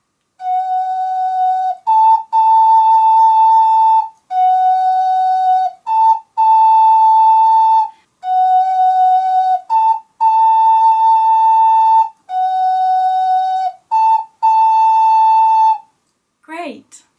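Ocarina playing a two-note figure in a clapped rhythm, clear sustained whistle-like tones alternating between a lower and a slightly higher pitch in short phrases, close and steady, ending with a brief soft rustle.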